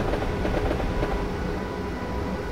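A train in Train Simulator 2013 runs steadily as it climbs a hill, a dense continuous rumble and rolling wheel noise that stays loud and close throughout without any voices.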